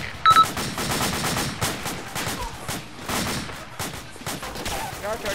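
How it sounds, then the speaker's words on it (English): Rapid bursts of automatic gunfire in the military shooter United Operations, a dense, fairly loud battle din of overlapping shots with brief pauses, and a voice calling out briefly under the fire. "Taking fire. Enemy fire. Under fire."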